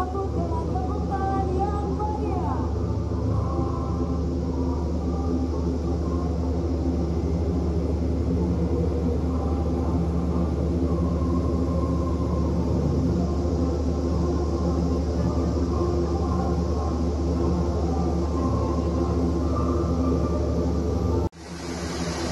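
An Airbus A400M military transport aircraft of the Indonesian Air Force lands and taxis at Halim air base, a loud, steady low rumble and engine drone that holds throughout and then cuts off abruptly at the end.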